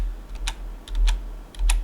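Computer keyboard keys tapped to steer left and right in a flying game, three quick clusters of clicks spaced evenly, close and moderately loud over a low steady hum.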